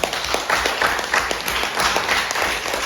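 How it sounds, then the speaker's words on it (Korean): A congregation at a church revival lecture gives a round of thankful applause, with lively, continuous clapping from many hands, close and fairly loud, with distinct individual claps standing out. "우리 일본에 있는 통일교 신도들에게 우리 감사의 박수 한번 보내드립니다"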